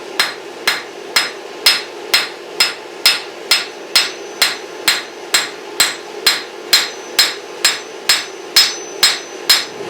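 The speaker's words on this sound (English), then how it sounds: "Bevel the blade, we're just going to kind of strike at an angle and try to thin out the material towards the cutting edge" Steady, evenly spaced hammer blows ring out on hot railroad spike steel as knife bevels are forged at an angle, about two strikes a second, loud and close with no talk.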